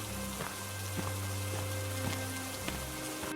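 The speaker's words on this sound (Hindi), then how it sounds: "बहुत तेज बारिश हो रही होती है।" Heavy rain falls steadily in a forest in an animated story, a dense continuous hiss with scattered drop ticks and a low steady hum underneath, no talk.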